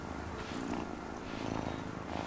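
A cat in the video game Wylde Flowers purrs continuously, a close, steady rumbling loop that fills the whole stretch with no talking.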